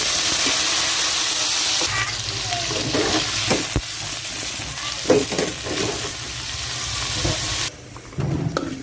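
Potatoes and carrots hit hot cooking oil for a pork belly afritada, giving a loud, dense sizzle throughout with scattered clatters and stirring knocks, briefly dropping near the end before surging again.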